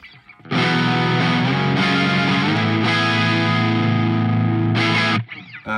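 An electric guitar run through a Mayflower overdrive pedal rings out in sustained, driven chords, loud and saturated with a rich harmonic crunch, two long strums and a brief final hit before it cuts off.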